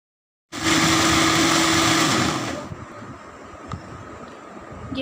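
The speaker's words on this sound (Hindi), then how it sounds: "जब इसका मिक्सर में चॉपर में डाल के पहले प्याज को हम चॉप कर लेंगे" An electric chopper chops onions, starting abruptly with a loud whirring motor that runs for about two seconds, then cuts off and leaves quiet kitchen clatter.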